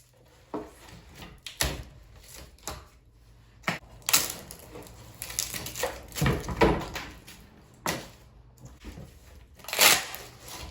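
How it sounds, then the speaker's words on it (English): Epoxy serving board being pried and popped out of a packing-tape-lined mold, giving scattered knocks, creaks and scraping clatter of varied loudness, close by with no talk. "Demolding the board from the mold is relatively straightforward and simple."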